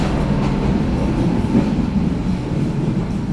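Inside a panoramic passenger carriage on a night Mutiara train trip, a steady low rumble of the moving train fills the space, constant and even with no distinct clatter.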